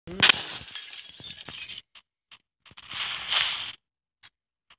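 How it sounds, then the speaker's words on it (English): Glass shatters in a video game, a sharp crash with scattered tinkling shards, followed by a second burst of crunching breakage and a few faint clinks, with no voices. "You know they can hear when you break glass, right?"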